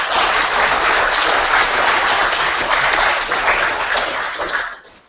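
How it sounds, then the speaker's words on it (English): An audience at a college debate in Edinburgh applauds in a steady, dense wash of clapping that holds for several seconds before tapering off at the end. "So can we give them a round of applause, please?"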